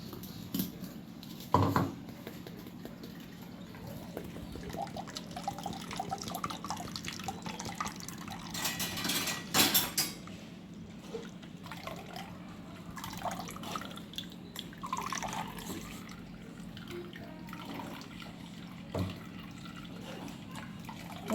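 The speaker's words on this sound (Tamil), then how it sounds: "ஒரு பாத்திரத்தில் வடிகட்டிக்கோங்க." Blended cucumber, ginger and mint juice is strained into a kitchen vessel with a faint, continuous trickle and dripping, broken by occasional soft clinks of utensils, with no talking.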